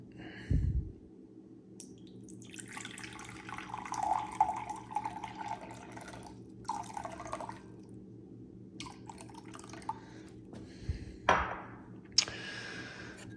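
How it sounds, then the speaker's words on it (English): About 100 grams of water is poured into flour for a biga dough, a soft trickle with scattered drips and splashes, plus a few clinks and bumps, close and fairly quiet. "I will be adding another 100 grams of water for a total of 350"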